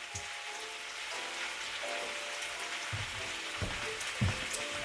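A teaspoon of butter hitting a hot pan on a home stove sets off a steady, crackly sizzle that runs throughout, with a few louder pops near the end; no one talks over it.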